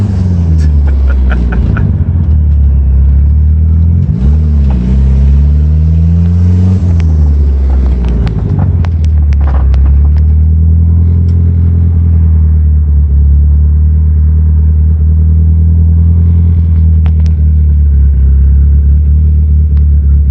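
A built 420A big-turbo Mitsubishi Eclipse pulls hard, a loud close engine roar sweeping up and down through the gears before settling into a steady heavy rumble, no voices.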